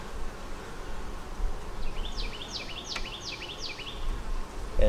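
Honeybees hum and buzz low and steady around an open hive, close by, with a brief series of chirping bird-like calls overhead and faint rustling throughout.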